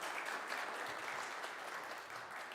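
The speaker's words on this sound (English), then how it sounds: "A round of applause for Nicole sharing that example." Audience applause at a livestreamed faith gathering for a woman who just shared an example, a steady, fairly faint wash of clapping lasting a couple of seconds without voices.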